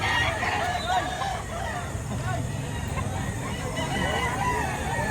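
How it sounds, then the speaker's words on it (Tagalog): A rooster at a Filipino poultry market crows and clucks amid a busy crowd babble and nearby traffic, the calls mid-distance and partly masked by steady chatter. "7 months na daw ang manok ni Kuya."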